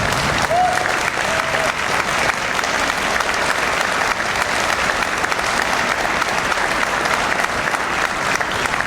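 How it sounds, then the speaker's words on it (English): Sustained applause from an audience at a school district breakfast event as the principals stand, a steady dense clapping lasting throughout without a break. "could we give them a nice round of applause?"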